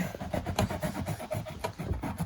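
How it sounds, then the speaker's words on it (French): Worn blade slicing through the foam of a motorcycle seat being prepared for freestyle motocross, giving a steady rasping, scraping texture in short repeated strokes, close and moderately loud with no talking. "ça va me permettre de découper le plus gros de la mousse"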